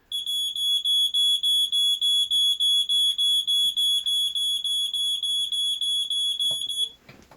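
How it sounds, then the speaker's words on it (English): A smoke alarm beeps shrilly in a steady, rapid run of pulses for about seven seconds, loud and close, then stops abruptly after being set off accidentally by a foot. "Oh, my foot was against the alarm."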